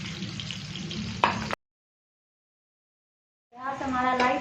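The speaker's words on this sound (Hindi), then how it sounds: "प्याज को लाइट ब्राउन करना है।" Onions for chicken biryani sizzle and crackle steadily in hot oil, a dense close frying hiss that cuts out abruptly and then resumes.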